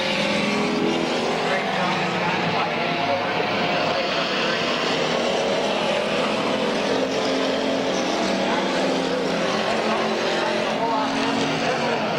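Race car engines roar steadily at Midvale Speedway during a dirt-track style oval race, a continuous dense drone of several cars circling, heard under a track announcer's commentary throughout.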